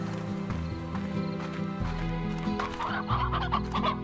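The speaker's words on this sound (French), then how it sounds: "J'ai 70 millions de poules." A large flock of chickens clucks in the farming game Slime Rancher, busy overlapping clucks layered over steady background game music, with no voices.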